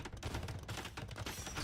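Trebuchets and a bombard cannon firing in an Age of Empires match, a dense, continuous rattle of overlapping impacts and shots, loud and steady with no talking.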